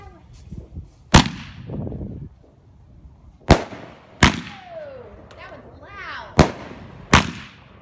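An Enforcer 500-gram firework cake goes off outdoors on New Year's Eve, with six sharp, loud booming reports spaced irregularly, each followed by crackling and whistling tails, while people talk quietly between the blasts.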